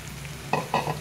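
Chopped onions tip into bitter gourd frying in a pan at home, giving two short, close sizzling bursts as they are stirred in, over a low, steady background hiss.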